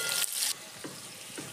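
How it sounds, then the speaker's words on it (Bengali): Boiled potatoes fry with salt and turmeric in a pan over a wood-fired clay stove, giving a steady close sizzle that swells into a brief loud hiss near the start, then settles with faint stirring clinks. "সেদ্ধ আলুগুলোকে ভাজার জন্য দিলাম। আলুগুলোকে লবণ আর হলুদ দিয়ে"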